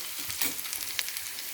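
Onions fry in a pan with a brief, steady sizzle and a few soft stirring scrapes, close and moderately loud, with no talking.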